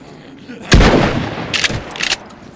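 A single loud, close gunshot in the survival video game DayZ cracks sharply and decays quickly, followed by a couple of fainter, shorter reports a moment later.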